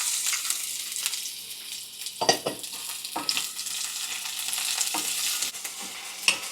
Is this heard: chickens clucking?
no